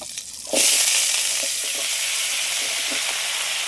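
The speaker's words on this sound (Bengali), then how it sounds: "শাক আর আলুটা দিয়ে দিচ্ছি কড়াইয়ের মধ্যে।" Greens stalks and potato are tipped into a hot wok used for frying crabs and burst into a loud, steady sizzle that continues evenly with faint stirring and no voices.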